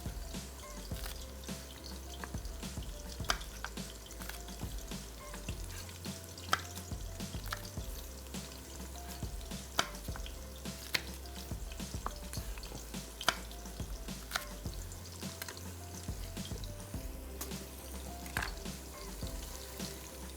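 Onions frying in a pan and being stirred now and then, a low, continuous crackling sizzle scattered with small pops and clicks, fairly faint and steady for about twenty seconds, without any talking.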